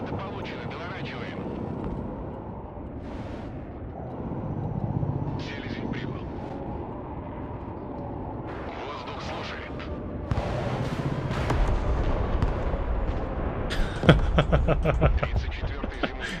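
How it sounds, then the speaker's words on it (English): Su-34 jets bomb low-flying Ospreys in the war game Broken Arrow, with aircraft engine drone, scattered explosions and a burst of rapid blasts near the end, all under steady talk. "We're going to bring in an Su-34 or 2 instead. And the reason I'm going to do that is because I want to bomb these Ospreys."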